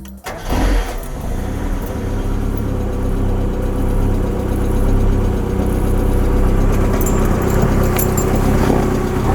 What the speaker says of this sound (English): now going to try and run the car with the MAF sensor disconnected and see what happens